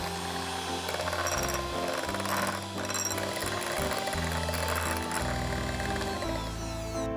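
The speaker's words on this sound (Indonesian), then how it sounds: "Campurkan dengan mixer sampai gulanya cukup larut." An electric hand mixer whirs continuously while beating egg with sifted powdered sugar, its motor pitch stepping up and down as the beaters shift in the bowl, loud and close throughout.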